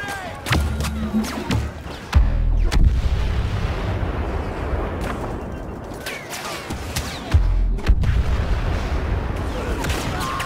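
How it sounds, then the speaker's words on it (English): Grenade blasts in Star Wars Battlefront during a droid-run battle: two heavy booming explosions, seconds apart, over constant crackling combat noise. "It's your grenade!"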